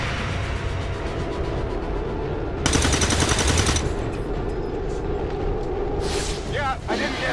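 Automatic gunfire bursts from the XCOM video game, a dense loud rattle around the middle over constant game ambience and music, with a short sharp shot near the end.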